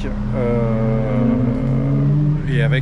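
A 2000 Mazda Roadster NB 1.8 VVT driving, its engine note rising steadily as it accelerates under a mix of nearby talk, then dropping briefly before climbing again.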